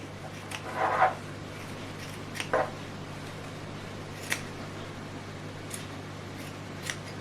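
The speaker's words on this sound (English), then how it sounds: "so I'm going to cut a bit more off" Scissors snip through crochet yarn in a couple of quick, soft cuts near the start, followed by a few faint clicks over a steady low hum.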